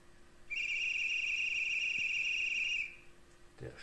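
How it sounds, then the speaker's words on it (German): Conductor's whistle sound function of a Märklin H0 model locomotive: one sustained, shrill, trilling whistle lasting over two seconds, loud and close, followed by a brief click. "Schaffnerpfiff."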